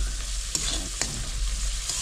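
Onions softened with a splash of water are stirred and fried in a pan for a katla fish curry, a close, steady sizzle broken by two sharp utensil taps.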